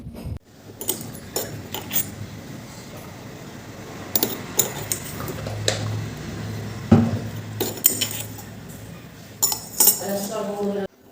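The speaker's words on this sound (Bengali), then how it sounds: "এখন সেই মশলাটি দই, টক দইয়ের সাথে মিশিয়ে নেব" A spoon clinks and scrapes against a bowl as spice paste is mixed into sour yogurt, irregular metallic taps and stirring strokes close up, with a voice speaking at times.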